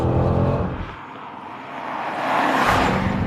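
A sports car drives along, warming its tires, with a steady close engine drone and tire roar that dips briefly and then swells again as it accelerates.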